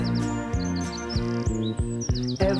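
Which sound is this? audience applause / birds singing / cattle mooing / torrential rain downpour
birds singing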